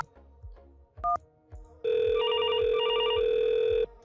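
A VoIP call rings through a 3CX softphone on a FreePBX network: a few short tones, then a loud, steady electronic warbling ring lasting about two seconds, with no talk.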